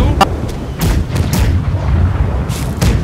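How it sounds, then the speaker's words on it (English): Pirate ship cannons firing in a video game: several deep booming blasts spread over a few seconds, loud and close amid a dense rumbling din of game noise. "When I say fire, I want to see 6 guns going off"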